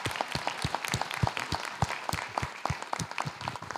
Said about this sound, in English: Could y'all give him a round of applause?